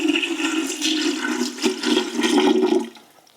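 Water pours into a filter pitcher in a steady splashing stream for a few seconds, then trails off into quiet.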